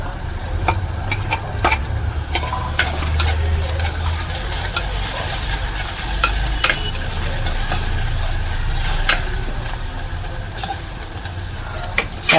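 Ginger, garlic and green chilli sizzle steadily in hot oil in a pan while being stirred, a loud, close, continuous frying hiss with occasional scraping.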